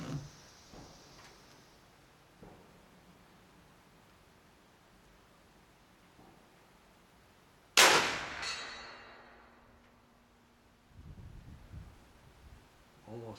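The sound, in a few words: big bore air rifle shots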